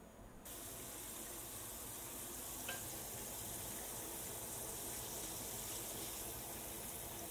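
Monkfish fries in a hot pan with a continuous sizzle, blending into the steady broadband rush of a kitchen extractor fan running throughout; there is no talking.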